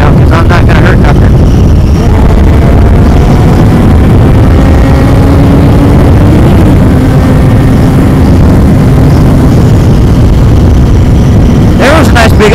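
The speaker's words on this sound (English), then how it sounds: "Heard how I over-revved it." A car engine revs hard at the limit while driving, a loud sustained drone with rising and falling pitch sweeps, heavy wind buffeting throughout and a sharp burst near the end.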